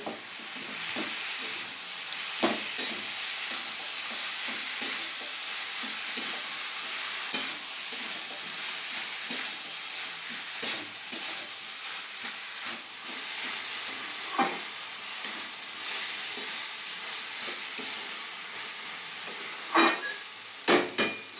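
Banana flower with prawns, garam masala and salt is stirred in a pan, giving a soft continuous sizzle broken by scraping stirs and a few sharp utensil clinks near the end.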